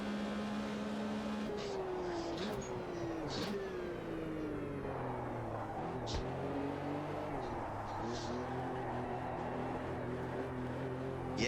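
A 1974 Porsche RSR 3.0 racing engine in the Automobilista 2 sim drones steadily, its pitch rising and dipping through gear changes and drifting, with faint tire chatter and clicks over the constant roar.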